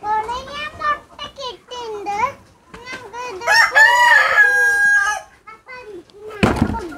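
A native Thalassery rooster crows loud and close in several drawn-out calls, with clucking hens and children's voices around it and a brief noisy burst near the end.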